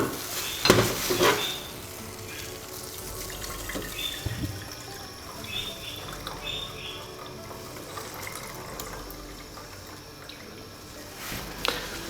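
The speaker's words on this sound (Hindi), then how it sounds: "अब हम पानी डालते हैं जी 300 ml" About 300 ml of water goes into a pan for herbal kehwa, with a short splashy pour near the start followed by quieter, faint bubbling and clinks.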